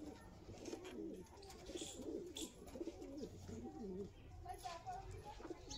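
A pigeon of the Rajasthani Bajre breed coos in soft repeated rolling phrases, close and fairly quiet, with a few faint higher chirps between them.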